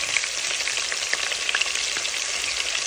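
Bone-in chicken fries in oil over a high flame for a handi dish, giving a dense, even crackling sizzle with a few faint stirring taps, close and steady without speech.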